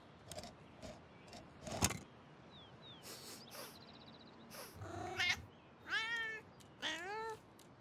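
A kitten meows several times, the cries clear and rising-falling near the end, amid scattered clicks and light rustling in a quiet room.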